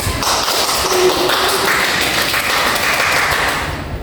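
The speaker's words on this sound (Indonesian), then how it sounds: "kita beri aplaus" A classroom group applauds a student group's answer with dense, steady clapping from many hands that holds for about four seconds before easing slightly at the end.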